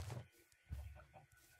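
Clucking from a chicken in a 2016 Robin Hood video game, two short soft bursts separated by a pause, faint and quiet with low murmuring game ambience beneath.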